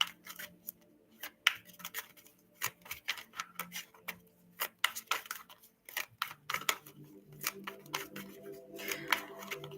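Crisp, rapid riffling clicks of a deck of cards being shuffled up close, coming in irregular bursts with short pauses between them.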